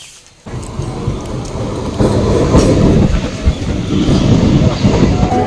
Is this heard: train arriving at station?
yes